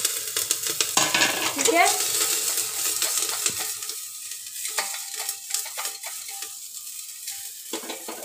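Green chillies sizzle in hot oil in a pressure cooker over a low flame, with steady frying crackle and a few stirring scrapes at close range; someone speaks briefly.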